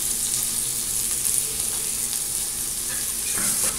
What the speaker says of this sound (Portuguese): Vou deixar fritar um pouquinho aqui.